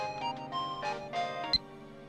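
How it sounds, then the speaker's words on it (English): A phone ringtone from the Steins;Gate visual novel plays as a soft, quiet melodic chime for about two seconds, with no voices over it. "My phone rings."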